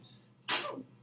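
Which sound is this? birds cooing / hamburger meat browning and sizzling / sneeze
sneeze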